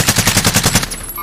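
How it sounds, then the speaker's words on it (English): Automatic gunfire in Call of Duty Warzone, a loud rapid burst of about eight closely spaced shots that cuts off abruptly and leaves a faint ringing tail. "Are they shooting at us from storage?"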